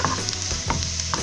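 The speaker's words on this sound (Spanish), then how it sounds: "vamos a seguir acá friendo la cebolla." Chopped onion fries in a pan for a Peruvian pallares bean dish, giving a close, continuous crackling sizzle with a few brief stirring pops and no talking.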